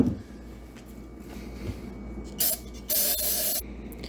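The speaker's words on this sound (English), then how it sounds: "spray her out and see how that looks" Two short bursts of aerosol cleaner spray onto rusty brake parts of a 1948 Packard Super 8 hiss up close over a low background hum. The second burst lasts longer.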